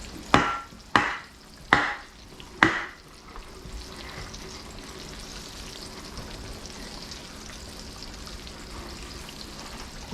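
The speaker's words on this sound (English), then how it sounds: "we're gonna fry this one up" Pork loin chicken fried steak starts frying in a pan, with a few sharp knocks and clatters at first, then a steady soft sizzle and crackle of hot oil continuing alone.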